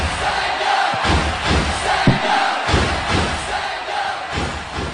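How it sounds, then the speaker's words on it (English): A loud crowd at a colloquium roars and cheers for a winning team, a dense, continuous wash of voices and shouting with occasional thuds, close and full throughout. "Can we give them a round of applause?"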